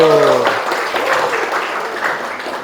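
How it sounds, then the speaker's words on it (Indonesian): A burst of clapping from a classroom group follows a brief voice at the start, fading gradually over a couple of seconds. "Tepuk tangan untuk kelompok 1."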